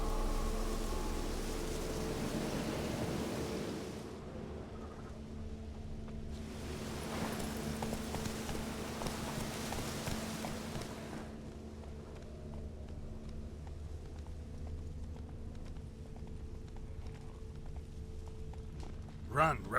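Rapid rhythmic hoofbeats of a horse galloping in a video game drum steadily in the foreground, with a wind-like rush rising and falling, while a voice speaks over parts of it.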